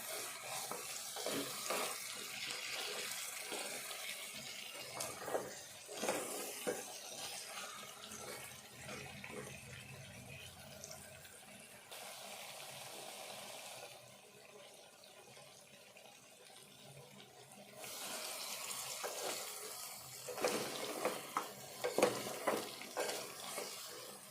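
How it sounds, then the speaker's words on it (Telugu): Water pours and splashes into a pressure cooker holding a goat trotter curry, fairly quiet, with intermittent stirring and clinking sounds between pours. "ఇప్పుడు వాటర్ పోసుకుందాము"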